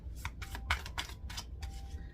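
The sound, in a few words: shuffling tarot cards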